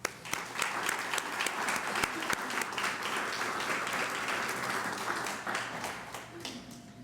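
An audience at a public lecture on seismic networks and earthquakes breaks into sustained applause to welcome the speaker, many hands clapping densely and evenly for several seconds before gradually thinning out.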